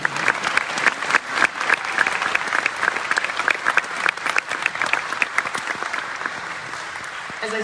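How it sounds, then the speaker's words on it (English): An audience claps at a district honor band concert, dense steady applause from a large crowd with many overlapping hand claps, holding level throughout. "You can clap here, so we can all."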